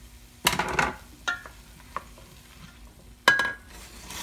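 A spoon stirs brisket ingredients in a pot, giving a few separate scraping and clattering strokes with quiet gaps between them and a soft sizzle underneath.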